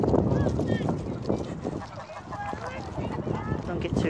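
Ducks gathered at a feeding spot during a snowy walk, giving scattered honking and quacking calls over crunching footsteps while people talk nearby.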